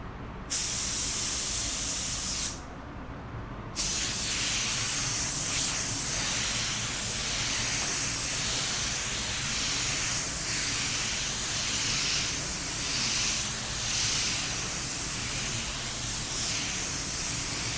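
A spray gun lays down a fast, close coat of automotive clear coat, a continuous loud hiss broken by two brief pauses near the start, then running steadily without talk.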